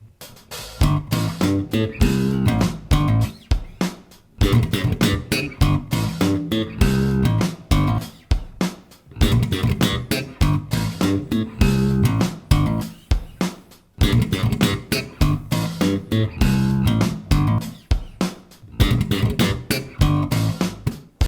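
Slapped bass guitar riff with a machine gun triplet fill using a palm slap, dense percussive thumb and pop attacks in rapid bursts, loud and continuous with brief pauses between phrases.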